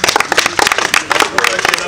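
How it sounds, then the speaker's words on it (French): Audience applause at a live stage show, dense irregular clapping filling the whole moment, loud and close, with voices mixed in. "Donc, on applaudit."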